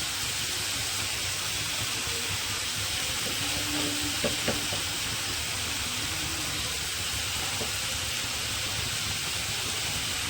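Onions fry in a pan, making a continuous broad sizzling hiss with a few brief stirring scrapes near the middle, steady and close with no voices.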